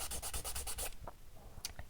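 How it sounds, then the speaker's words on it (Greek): A hand nail file scrapes rapidly over a square gel nail extension, about eight quick close rasping strokes, then a pause and a few slower scratches, with no talk. "Θα τελειώσω με το λιμάρισμα"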